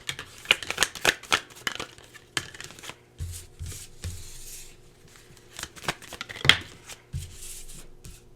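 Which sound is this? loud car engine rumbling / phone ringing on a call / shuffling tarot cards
shuffling tarot cards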